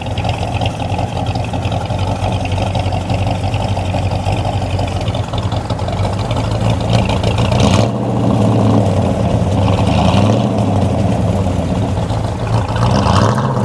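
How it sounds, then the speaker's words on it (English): A 1983 Chevy C10 pickup with a mild cam and SLP resonators rumbles steadily at idle outdoors, its deep exhaust note swelling through a few revs around the middle and end. "And you can hear the exhaust."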